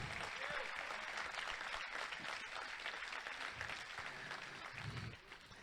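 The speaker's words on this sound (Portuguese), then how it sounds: "Você pode dar uma salva de palmas para Jesus?" A church congregation claps together in a steady, full round of applause, with some voices and cheers mixed in, fading slightly at the very end.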